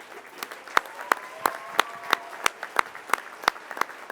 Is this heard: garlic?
no